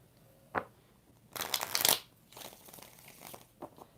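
A deck of tarot cards gets one more shuffle, opening with a tap before a close, crisp riffling burst and a few softer shuffling rustles and taps.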